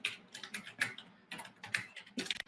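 Typing on a computer keyboard: bursts of quick, close key clicks in irregular clusters separated by short pauses, fairly crisp and alone without talk.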